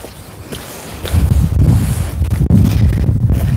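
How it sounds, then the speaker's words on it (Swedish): Wind blows hard across an outdoor microphone, a steady roaring rumble that strengthens after the first second and keeps buffeting, with a brief dropout midway. "Det blåser även här."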